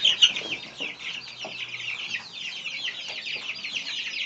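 Young Silkie chicks, about three weeks old, cheep and cluck steadily in a barn near the feeders, a continuous high chatter of many small birds close by with no talking.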